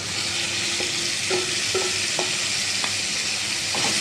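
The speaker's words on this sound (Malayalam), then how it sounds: "ഇനി ഇതൊരു എണ്ണ തെളിഞ്ഞ് വരുന്ന വരെ ഇളക്കി കൊടുത്തുകൊണ്ടിരിക്കണം" Chili and turmeric paste being stirred into a mackerel curry in a pan: a continuous soft sizzle with a spoon scraping and clinking against the pan several times at a steady pace, close by and without talk.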